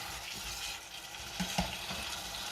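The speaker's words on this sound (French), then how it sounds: "Je vais la laisser encore mijoter 5 à 10 minutes." Moussaka meat sauce simmers in a pan with a soft, continuous bubbling sizzle, faint and even, with a couple of slightly louder pops near the middle.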